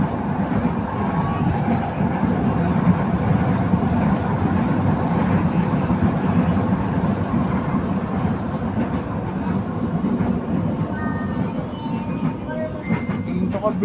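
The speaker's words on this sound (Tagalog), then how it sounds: "Ito kabilis ng LRT to eh." Ride aboard a Manila LRT Line 1 light rail train: a steady rumbling, rattling car interior with rhythmic track noise and faint squeals, continuous and close throughout, with occasional quiet voices in the background.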